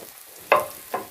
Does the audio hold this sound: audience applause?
no